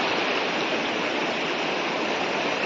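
Stream water flows near Kakochang waterfall, a steady, loud, broadband rush with no pauses and no voices.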